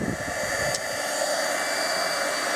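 Heat tool embossing acetate for a flamingo greeting card: a steady, loud blowing whir that runs unbroken throughout, close up with no talk.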